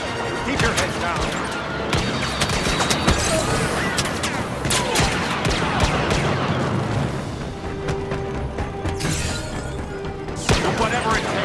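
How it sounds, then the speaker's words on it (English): Blaster fire rattles in rapid, dense volleys through a Star Wars Battlefront battle on Sullust, mixed with booms and crashes. Voices are heard through the steady firefight. "blaster fire? Keep your heads down."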